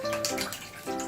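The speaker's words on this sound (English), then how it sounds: "So just pour it over some ice." Cold brew coffee is poured over ice, a steady close trickle and splash of liquid filling a glass for about a second, with no voices.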